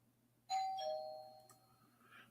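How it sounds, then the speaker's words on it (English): A doorbell chimes two tones, ringing out clearly, then fades, heard faintly in an otherwise quiet room. "someone's ringing my doorbell."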